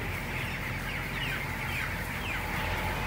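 Chickens in a poultry shed, where sawdust bedding is being wetted with a pump, make a dense, steady background of clucking and chirping that runs throughout, with constant shed noise and no talk.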